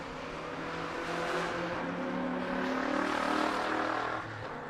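At a drag race, a Saab-powered car built on a Miata chassis and an Olds launch side by side, their engines a moderately distant rumble that builds slightly and holds for several seconds.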